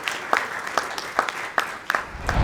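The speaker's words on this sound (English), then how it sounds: "Hand of applause for them" Light audience applause at a technology conference session, a soft wash of clapping from a modest crowd with a few distinct claps standing out.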